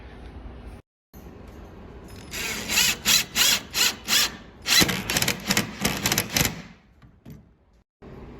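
A power drill drives screws into jon boat framing in a series of short, loud bursts, roughly a dozen quick pulses with brief pauses between them, close by.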